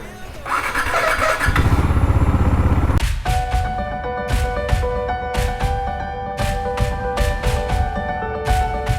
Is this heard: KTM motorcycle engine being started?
yes